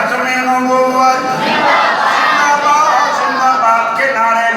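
A large crowd chants the slogan Tajdar-e-Khatm-e-Nabuwwat in unison, a loud sustained roar of many voices rising and falling together.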